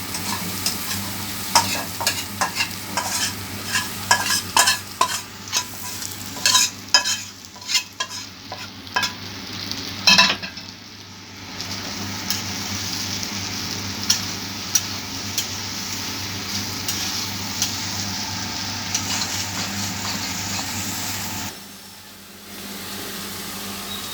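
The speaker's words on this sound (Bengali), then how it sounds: "পটলের ভিতর চিংড়ি মাছটা দিয়ে দিতেছি ভালোভাবে একটু করে নিচ্ছি" Prawns cooking with pointed gourd in a pan, a steady frying sizzle with repeated stirring scrapes and clinks early on, then a continuous hiss that drops away near the end.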